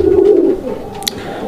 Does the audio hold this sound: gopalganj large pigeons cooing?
yes